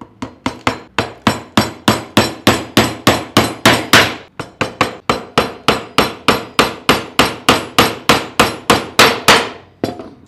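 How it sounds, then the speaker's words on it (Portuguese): Steady hammer blows drive thin nails into a wooden board, about thirty crisp, evenly spaced strikes in two runs with a short pause between, close and loud with no talking. "Eu vou fixar com prego, mesmo porque eles são finos."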